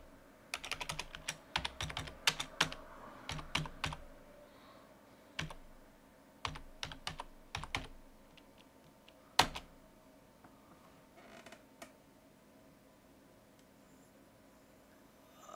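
Someone types a git commit command on a computer keyboard, with bursts of quick, close key clicks separated by short pauses and a few louder single keystrokes.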